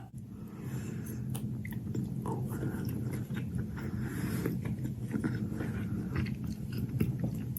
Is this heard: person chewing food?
yes